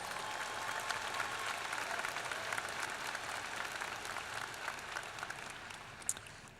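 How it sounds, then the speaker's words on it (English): Commencement ceremony crowd clapping, a sustained, fairly soft and distant ripple of applause filling the hall without any speech. "Let's give them a round of applause."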